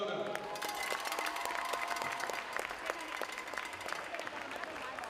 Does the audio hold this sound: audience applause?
yes